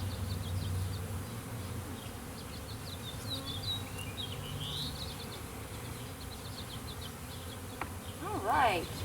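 Honeybees swarm and buzz around opened hives, a dense, continuous hum with individual bees zipping close past, faint background throughout and a louder buzz near the end.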